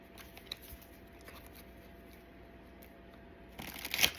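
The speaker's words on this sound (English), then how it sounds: "I'm gonna do 2 more shuffles" Quiet, soft papery riffling of tarot cards being shuffled nearby, with a louder burst of card flicks near the end.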